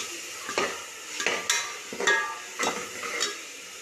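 Onions with ginger garlic paste sautéing on high flame for a country chicken gravy, a steady sizzle broken by several sharp scrapes and stirs of a spoon against the pan, close and loud.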